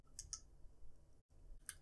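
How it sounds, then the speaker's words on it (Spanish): A few faint, sharp computer mouse clicks come in small clusters, separated by brief quiet gaps over a low background hum. "Hacemos un clic en Download."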